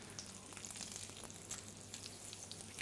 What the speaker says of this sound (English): You can hear it all sizzling and popping in there